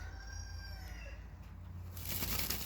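Farm chickens cluck and call nearby, a few short tonal calls over a low hum, followed by a burst of broadband rustling near the end.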